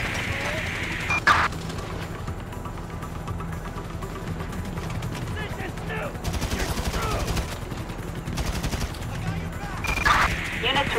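Gunfire in Grand Theft Auto V, bursts of shots at the start, in the middle and near the end, over steady engine and street noise from an in-game police chase.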